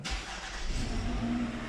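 A Toyota Camry engine being checked for an oil pressure warning light catches after a brief crank. It settles into a steady, close idle hum.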